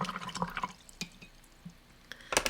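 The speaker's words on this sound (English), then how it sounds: "I hate it when I rinse in my clean water" A paintbrush rinsed in a cup of clean water during watercolor painting, giving a few soft, sparse drips and small splashes with quiet gaps, ending in a brighter burst of sloshing.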